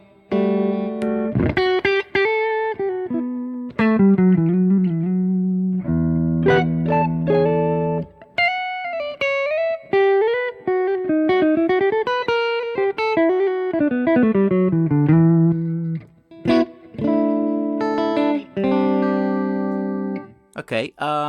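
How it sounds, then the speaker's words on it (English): Electric guitar through a Laney amp plugin with the amp's reverb added and a touch of extra treble, playing a steady run of clear, ringing melodic notes and chords whose tails sustain and overlap, loud and close throughout. "Let's put a bit of reverb on from the amp here."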